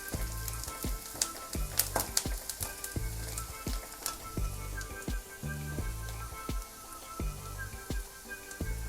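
Curry leaves and ground red chilli sauté in hot oil in a pan, giving a steady, close sizzle with crackling pops and regular soft stirring scrapes throughout.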